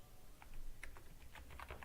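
Short burst of quick, close keystrokes on a computer keyboard, a light cluster of clicks speeding up toward the end, with no talking.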